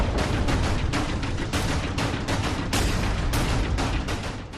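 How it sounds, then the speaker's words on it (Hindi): Explosions and gunfire from the Russia–Ukraine war sound as dense, repeated bursts of blasts and shots. They are loud and continuous throughout, with no voices heard. "ना रुकेगा इन धमाकों का शोर।"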